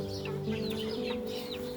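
Chickens cluck softly at feeding time on a farm, several birds making short, overlapping calls at moderate distance over a steady low background hum.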